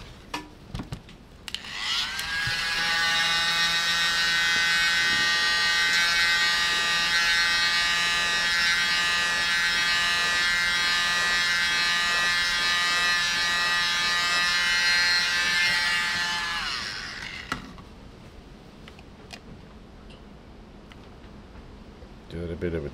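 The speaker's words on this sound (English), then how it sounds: "grab our little mini blower." A small electric mini blower used for acrylic pour painting spins up and runs with a steady high whirring hum for about fifteen seconds, close and fairly loud, then cuts off and winds down.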